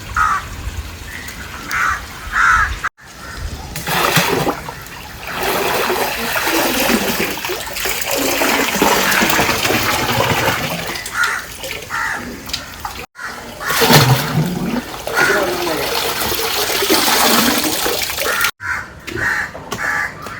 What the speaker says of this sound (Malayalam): നമുക്ക് ഇതിൽ വെള്ളം നിറക്കണം ആദ്യം